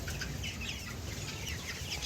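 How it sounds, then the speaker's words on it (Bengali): Farm chickens clucking while being fed mash, a busy chorus of clucks and chatter close by, continuous over a hissy background. "এই ম্যাশটা খাওয়াচ্ছি এবার মুরগিকে"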